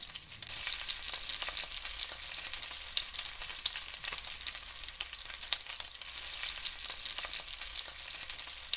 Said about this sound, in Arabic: بمقلة بضيف زيت، ولما يسخن معي بلش نزل السمبوسك